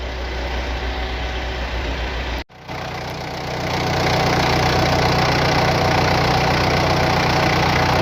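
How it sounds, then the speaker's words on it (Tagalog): An electric radiator cooling fan switched on through a relay whirs steadily, with a brief cutout near the start before it resumes and settles into a louder, continuous hum. "Subukan muna natin bandarin kung gagana yung fan."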